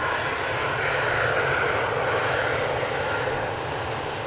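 A steady, broadband roar of an Air France Airbus A320 arriving at Amsterdam Schiphol Airport, loud and continuous with no voices.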